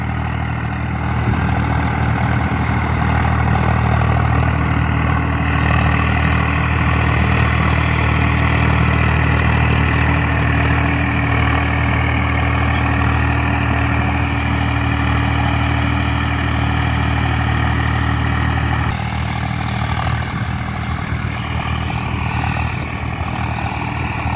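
A 744 XT tractor with a 3478 cc engine idles steadily and loudly close by, a constant deep throbbing rumble with a slight shift in tone near the end, and no voices over it.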